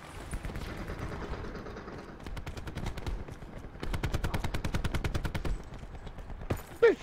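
Gunfire in the video game Black Ops 4: fast, evenly spaced shots in two main bursts, fairly close and sharp, with quieter game sounds between them and no talking.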